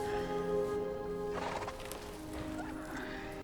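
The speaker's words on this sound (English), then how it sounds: "What a beautiful horse." A horse neighs and whinnies in a film scene, its hooves clip-clopping nearby, the calls rising over a sustained low musical tone with a brief crash of movement midway.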